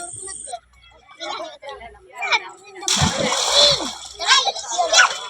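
Children splash and slosh in water in a small homemade swimming pool, bursts of splashing rising and falling, mixed with kids' voices and chatter nearby.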